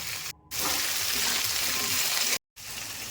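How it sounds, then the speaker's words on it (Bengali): Radish and potato pieces, added to fried onions with salt, sizzle in oil for a fish curry, a dense steady frying hiss close by, cut by two short silent gaps. "এবার স্বাদ মতো নুন দিয়ে ভেজে নেব।"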